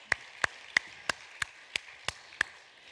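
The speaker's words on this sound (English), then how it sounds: "We can clap." Eight evenly spaced claps ring out one at a time at a steady rhythm in a quiet room during a church service, clear and fairly close, with no talk.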